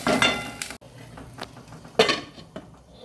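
A metal lid is closed over a pot of radish cooking on high heat: a few distinct clanks and clinks, close and fairly loud, separated by brief quiet gaps, without talking.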